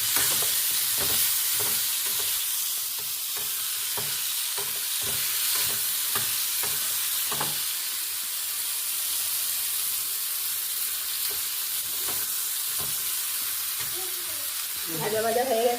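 Soybean curry ingredients fry and sizzle in a pan, with a steady hiss under a run of rhythmic scraping stirs that pause midway and resume, ending with a short burst of clatter or a voice.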